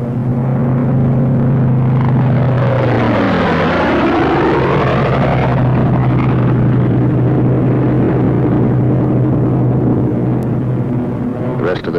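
A WWII fighter plane's propeller engine drones loudly and steadily, with a pitch sweep as the aircraft passes, and a continuous rumbling tone throughout under a narrator's voice.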